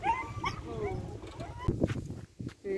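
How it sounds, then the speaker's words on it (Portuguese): A dog near a rural island home in the countryside sounds a few short excited yips and whimpers amid people talking nearby. "Olha esse cachorro ali, tão contente com a nossa chegada aí"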